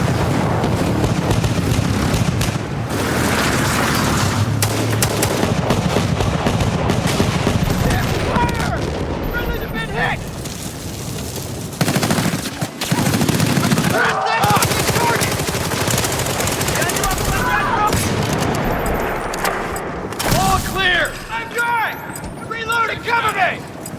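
Sustained machine-gun bursts and scattered explosions in Battlefield 4, loud and continuous across the whole stretch, with players talking over the gunfire.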